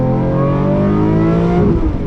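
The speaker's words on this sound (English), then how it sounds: "This is one of the best sounding cars in the world, bar none. That naturally aspirated V12 is absolutely absurd." A Lamborghini Murcielago SV's naturally aspirated V12 revs loudly and close, a smooth rising engine howl with layered harmonics, dipping briefly near the end, with no talk.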